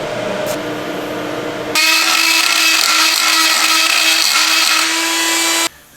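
A die grinder works lightly over welds on a diff brace for a G60: a loud, steady high-pitched whine that kicks in after a quieter hum, runs continuously for several seconds, then cuts off abruptly at the end. No voices.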